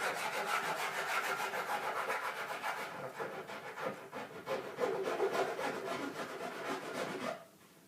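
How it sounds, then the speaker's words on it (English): A hand file rasps back and forth along the edge of a countertop end cap. The scraping strokes are steady and rhythmic, close and alone, then stop abruptly near the end. "It's just a little bit of filing"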